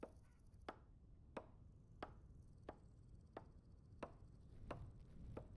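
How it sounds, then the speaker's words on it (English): Sharp, evenly spaced axe chops on wood, eight or nine strikes about two-thirds of a second apart, as a character fells a tree in Vintage Story, faint over a low background hum with no voices. "Why is it saying like my character's chopping down a tree?"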